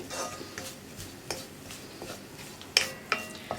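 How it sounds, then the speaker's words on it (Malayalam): Grated coconut being stirred in a pan over a low flame: faint scraping with a few sharper metallic clinks of the spoon against the pan. "ലോ ഫ്ലെയിമിൽ വെച്ചിട്ട് ഇളക്കി കൊടുക്കുക"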